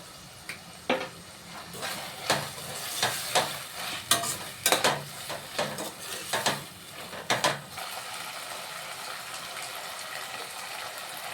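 Chopped tomato frying in a pan with salt, a steady sizzle broken by repeated scraping strokes of a spatula stirring, close and fairly loud with no one talking.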